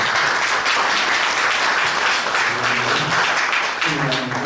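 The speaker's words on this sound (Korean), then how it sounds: "감사의 박수 한번 하겠습니다." Applause of thanks from a church assembly audience at a university celebration, steady dense clapping throughout, with a voice faintly starting to talk near the end.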